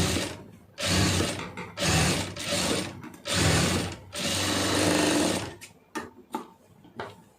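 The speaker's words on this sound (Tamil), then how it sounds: "இப்போ இதை நீங்கள் வந்து அப்படியே மடக்கி விட்டு ஒரு தையல் போட்டுருங்க" A sewing machine stitches a folded fabric border strip in several loud bursts of rapid mechanical whirring, separated by short pauses, with a few brief clicks near the end and no talking.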